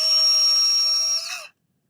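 Power drill running in reverse to back a tap out of a freshly tapped hole: a steady, close, high whine for about a second and a half, which sags in pitch and quickly cuts off, with no talking.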